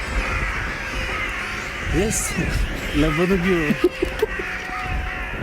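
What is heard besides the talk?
crows cawing outside a manor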